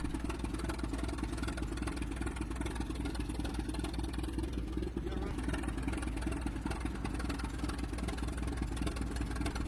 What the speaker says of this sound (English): this combine was started and run during cleanup day after the 2021 show